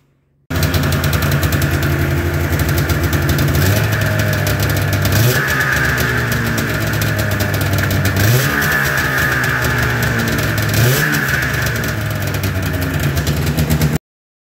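A snowmobile engine with its muffler removed runs loud and raspy with open exhaust, its pitch rising and dropping in several short revs, continuous throughout.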